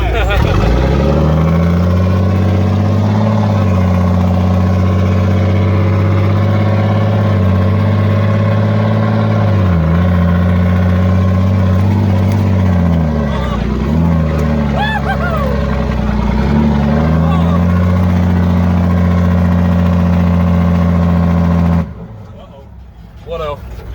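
A 14-liter, non-turbocharged M923 5-ton military truck engine rumbles loudly with a deep, steady drone from inside the cab. Its pitch dips and rises several times as it works, and people talk over it before it cuts off near the end.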